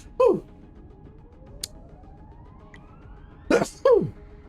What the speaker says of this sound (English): I apologize for the loud sneezes, y'all